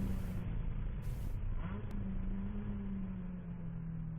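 Endurance race car in the ChampCar Endurance Series at VIR braking for turn 1 during the Winter Classic, a steady loud engine drone with a falling, shifting tone as it slows.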